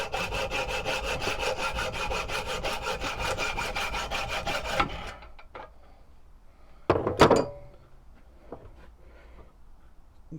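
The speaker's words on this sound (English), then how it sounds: "So I'll probably just cut this out with a hacksaw roughly and then put it on the little belt sander." A hacksaw roughly cutting steel while building a sword, rapid rhythmic rasping strokes up close for about five seconds, then quiet with a couple of sharp metallic clatters.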